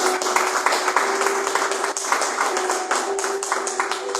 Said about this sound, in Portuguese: Palmas para Jesus novamente.